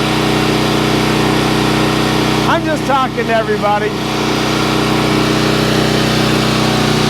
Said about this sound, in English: Hey, the Predator engine's working great.